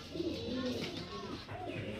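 Several Kalshira and Madrasi highflyer pigeons coo in a continuous low, rolling murmur at close range.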